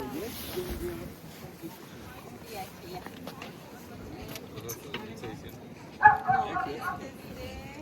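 A dog barks with a few sharp yelps late on, heard amid street bustle and people talking as visitors walk through Bremen, Germany.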